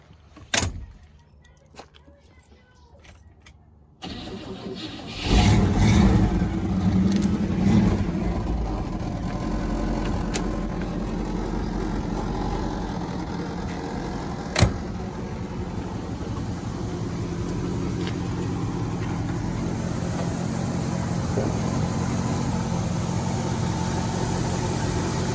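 A 1959 Cadillac Series 62 comes to life after a door clunk and brief cranking. The engine catches and then idles in a steady, close, low rumble with a slight rev partway through.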